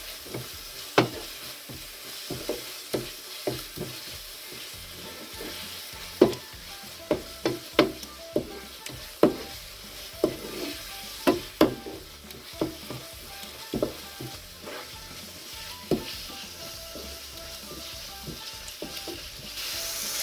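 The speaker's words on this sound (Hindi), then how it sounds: "अब हम इसमें डालते हैं कढ़ाई मसाला और इसको मिक्स करते हैं।" Kadhai masala being stirred into frying chicken in a pan for kadhai chicken, with a steady sizzle under repeated scraping and knocking of the spoon against the pan, close and with no talk.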